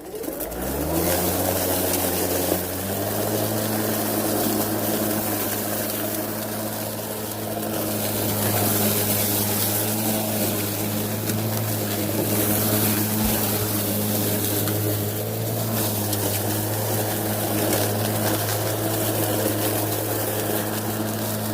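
Greenworks battery-powered lawn mower with the bag removed, mulching grass: a steady, close motor drone with a strong low hum and a slight pitch rise early on, running continuously without talk.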